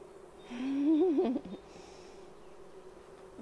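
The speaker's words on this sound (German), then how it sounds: "den Bienen, die da jetzt schon überall rumkreisen, das sind die Flugbienen, die nach Hause kommen" A honeybee flying around the hive during a spring inspection buzzes loudly past the microphone, its pitch gliding up and down for about a second before fading into quiet.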